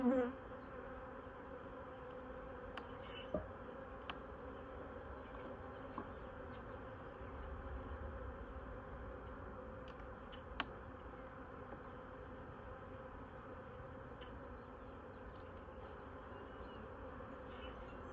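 Honey bees buzz steadily and faintly around an open hive during a Saskatraz queen install, a soft continuous drone with a few brief clicks and taps, no voices.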